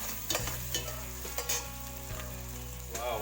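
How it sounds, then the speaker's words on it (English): Masala spices fry in a hot pan for butter chicken, a dense steady sizzle with a few scraping stirs of a utensil, heard close up with no speech. "I would add all of these masalas in one go. There we are. This is important to get the flavors going. I'll fry them for next 2 or 3 minutes."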